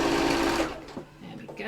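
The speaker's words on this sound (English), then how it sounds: "sewing all the way down, taking my pins out as I go and making sure it stays folded down" A sewing machine whirs steadily while stitching down the folded side of fabric for a vanity case, then stops abruptly partway through, followed by brief handling sounds and someone speaking softly.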